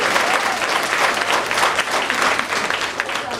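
Full audience applause at a community re-entry graduation ceremony, a dense, loud wash of clapping lasting the whole stretch without speech.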